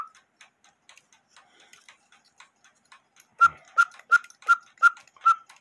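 A 1908 GK cuckoo quail clock's faulty quail call sounds six times in a steady, evenly spaced rhythm, after a stretch of faint, quiet ticking.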